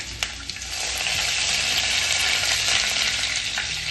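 Mustard seeds and finely chopped onion fry in hot oil for a Nagpur Saoji egg curry, giving a steady, close, broadband sizzle throughout with a few faint stirring scrapes and no talk.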